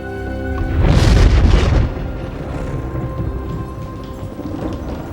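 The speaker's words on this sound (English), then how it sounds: "why is it always got to be on a rainy night?" Heavy rain and a deep rumble of thunder on a stormy night in a film, the boom swelling loudly in the first two seconds before settling into a steady wash of falling rain.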